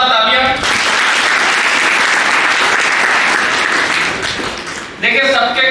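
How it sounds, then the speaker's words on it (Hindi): A large audience at a student induction programme breaks into loud, sustained applause that fills the room for several seconds, with a speaker's voice heard briefly before and after it. "तो जोरदार तालियां"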